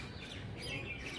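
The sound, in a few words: birds chirping in a home garden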